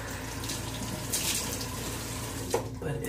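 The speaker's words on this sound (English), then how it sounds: "So let's splash some hot water on my face." Hot tap water running and splashing onto a face at a bathroom sink, a steady close wash of water with a couple of brief louder splashes.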